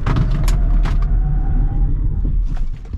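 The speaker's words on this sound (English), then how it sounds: "So I'm going to go full braking from about 60 miles an hour." A Rivian R1S quad-motor electric SUV brakes hard from about 60 mph, heard from inside the cabin as a steady low road and tire roar with faint whine that holds and then fades as the vehicle slows.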